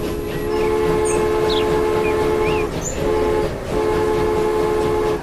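Train rolling along in Transport Fever, with a steady loud mechanical drone and tonal whine, a couple of brief dips in level, and faint squeaks and chirps over the top.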